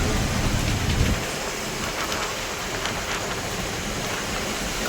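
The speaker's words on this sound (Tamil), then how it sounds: "சரியான மழை" Steady, dense roar of heavy rain pouring down during a cyclone in Pamban, with a brief louder low rumble at the start and no voices.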